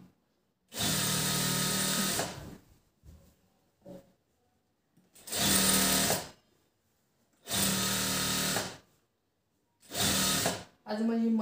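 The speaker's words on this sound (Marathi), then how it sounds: "आज माझी मशीन सुद्धा खूप छान चालली आहे, कारण एकदाही दोरा तुटलेला नाही" Electric sewing machine stitching a blouse, running in four separate bursts of steady whirring of a second or two each, separated by quiet pauses with faint handling clicks.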